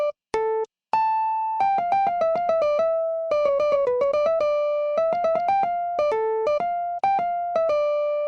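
The rectus theme of Bach's Art of Fugue Contrapunctus 13 played alone on a keyboard-like instrument, with clear, distinct notes in a steady melodic line and brief pauses near the start.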